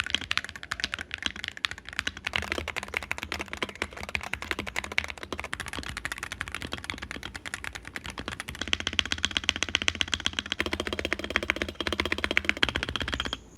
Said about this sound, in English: Here's a sound comparison of the V2 versus the V1, and also the V2 with the V1 switches in it.